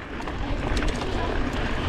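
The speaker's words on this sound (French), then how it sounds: "Ouais, je t'entends pas avec le vent." Wind buffets the microphone in steady gusts, a broad rushing roar that persists throughout the short moment.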